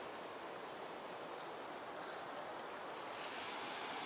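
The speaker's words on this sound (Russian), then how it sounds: "Шум прибоя." Ocean surf breaks steadily on the shore, a continuous broadband roar with wind mixed in and no voices.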